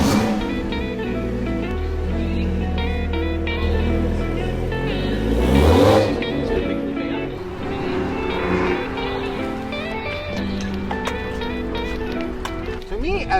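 A Toyota Supra engine, newly fitted with a BMW M5 fuel pump, idles and runs steadily in a garage with a low rumble and a few revs, while people talk over it.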